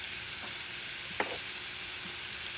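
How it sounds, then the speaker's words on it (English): Onions go into a hot pan of melted fat for an omelette, giving a steady, faint sizzle with a couple of soft clinks of a utensil, no voices. "Now that it's melt, what you're going to do, you're going to add your onions."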